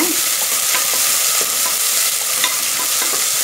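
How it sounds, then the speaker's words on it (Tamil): Sliced onions sizzle steadily in a mix of ghee and oil, a bright continuous crackle with a few soft stirring scrapes, close and loud, with no talking. "இந்த நெய் ஆயில் மிக்ஸில் போட்டு நல்லா வதக்கணும்."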